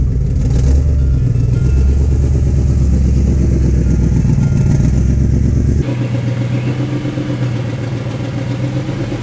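BMW E92 M3 V8 with a choppy, cammed-sounding idle and revs, loud and close, the tone dropping and settling about halfway through.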